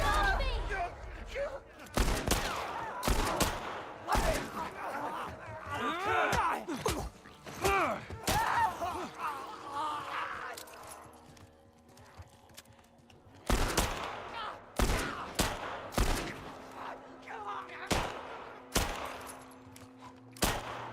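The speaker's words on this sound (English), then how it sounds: "What's she shooting at?" Gunfire in The Last of Us Part 1, with repeated loud, sharp pistol and rifle shots in irregular bursts, separated by quieter stretches where people talk.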